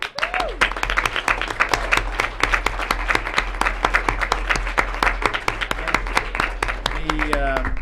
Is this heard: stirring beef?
no